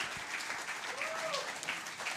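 Audience applause for songwriters performing in the round at a livestreamed concert, a steady, fairly soft wash of clapping throughout with a voice faintly audible over it.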